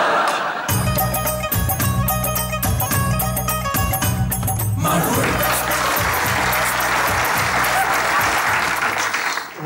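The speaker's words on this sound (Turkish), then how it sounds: "Yanlış anlamayın, bu protesto alkışı artık." A studio audience at a Turkish comedy stage show claps in protest: music with a steady beat plays first, then gives way to loud, dense applause that fills the rest of the stretch.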